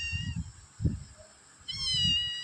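A pet cat meows repeatedly in short, near calls, with bursts of low rumbling noise between them and a steady high electronic whine in the background.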